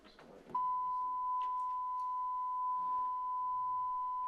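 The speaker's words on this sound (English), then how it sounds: "Here's a sine wave." A steady sine-wave test tone from a live sound system switches on abruptly after a brief burst of room noise and holds constant and loud, with faint voices and rustle underneath.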